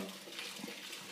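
Cooked pasta pours into a colander, water rushing and splashing in a steady, close gush through the whole short stretch.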